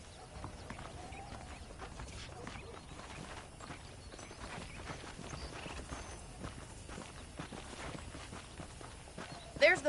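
Horse hooves clip-clop at a steady walking pace in the Red Dead Redemption video game on PS5, moderately close and continuous beneath a low bed of ambient noise and talk.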